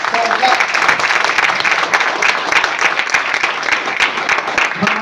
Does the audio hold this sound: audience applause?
yes